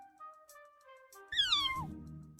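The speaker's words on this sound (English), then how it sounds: "I'm sure you can hear the kitty meowing in the sound effects" Kitten meowing sound effect from the visual novel Love Spell, one bright, rising-then-falling mew standing out clearly over soft game music.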